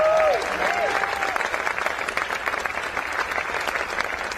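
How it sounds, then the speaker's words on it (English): A crowd breaks into dense applause after a presidential speech about clean energy in New Mexico, steady loud clapping throughout, with a brief voice at the very start. "Can you give a round of applause for that?"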